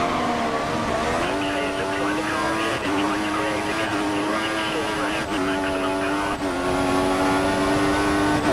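Wheels locking under braking on an F1 race car in the F1 2014 game at the Chinese Grand Prix, a steady loud engine drone with rising whines and repeated brief skids, continuous without pause.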